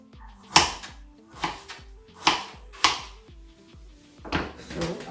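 A kitchen knife chopping half-defrosted vegetables on a board, with about seven distinct firm, close thuds at uneven intervals and music playing softly underneath.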